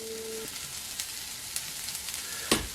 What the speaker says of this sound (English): I'm going to add 3 cloves of finely chopped garlic.